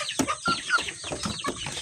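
Chickens clucking close by on a farm, short choppy calls repeating in quick succession with two roosters among them, no talking.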